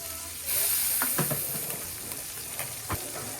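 A soft hiss and sizzle rises from a hot pan of mung beans as a little water hits it, with a few light clinks of a utensil, quiet and close.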